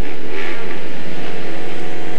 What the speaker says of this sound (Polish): Teraz także widać, że ze startu nie najlepiej ten motocykl wystrzelił, ale jest Jonsson na drugiej pozycji